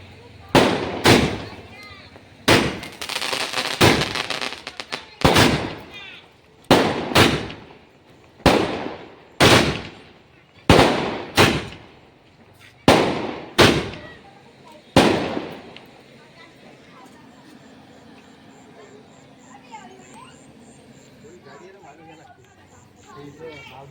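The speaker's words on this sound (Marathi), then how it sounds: "फटाके पण फोडत आहे." About a dozen loud firecracker bursts go off at irregular intervals of a second or so, then stop, leaving quiet background voices.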